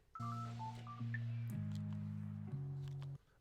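Telephone keypad dialing in a comedy game: a string of steady two-tone beeps, about four held tones in a row, clear and close with faint higher blips early on.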